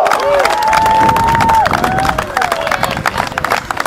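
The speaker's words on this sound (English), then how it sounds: "Give a hoot and holler and a round of applause" A crowd at a cannon-firing demonstration breaks into applause and cheering for the volunteers, with claps, whoops and whistles mixed with excited chatter, loud and close, then gradually thinning.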